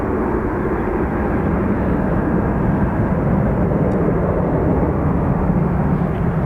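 An Airbus A330, flight EI 69 bound for Los Angeles, rumbles steadily at an airport, a continuous broad engine roar heard from a moderate distance with no talk over it.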